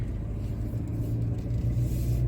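Interior rumble of a car driven along a road in Goa on a road trip, a low, steady engine and tyre drone with slight swells, moderately quiet and unbroken by talk.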